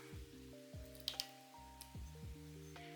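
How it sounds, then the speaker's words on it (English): Thick chia pudding mixture being poured into a glass: a few wet, squishy plops and dripping sounds over a low background tone, close by, with no speech. "Now let's pour all of that preparation into our glass."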